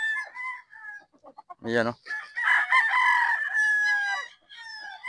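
A Pop Gray gamefowl rooster gives one loud, close crow lasting about a second, with someone talking before and after it.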